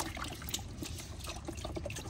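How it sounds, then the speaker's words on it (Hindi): Water being poured out of a pet turtle's tank, a steady close trickle and splash of falling water running on without pause, quiet and with no talk. "थोड़ा सा इसका पानी ना गिराना पड़ेगा"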